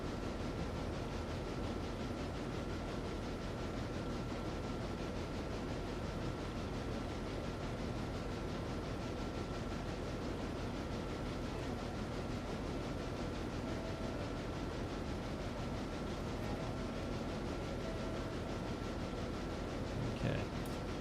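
An Alco RS-1 diesel locomotive in the Railroader video game runs with a steady, continuous engine drone and a faint constant tone, unchanging throughout.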